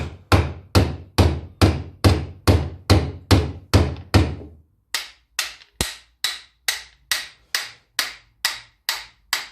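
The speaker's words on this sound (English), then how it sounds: "I'm only going to be gently tapping." Steady series of sharp metallic hammer taps gently fitting a new piston into a Land Rover Series engine, evenly spaced, about two per second, fairly close; a brief pause midway, then the tapping resumes slightly lighter.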